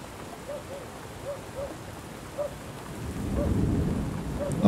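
Steady rain and wind in the video game Drug Dealer Simulator, a constant wash that builds louder toward the end, with faint repeated chirping tones over it and no clear thunder crack.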